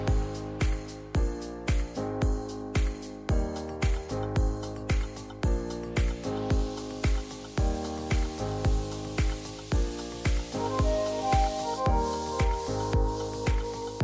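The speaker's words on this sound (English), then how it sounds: "Stir the paint very well." Water-based gloss paint mixed with acrylic colour is stirred in a container, giving a regular series of wet, squishy strokes about twice a second over a steady tonal background.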